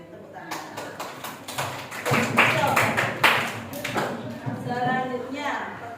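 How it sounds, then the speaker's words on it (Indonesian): Students in a classroom clap during an Indonesian lesson on artificial intelligence, giving a scattered round of hand claps mixed with voices and chatter. "Tepuk tangan."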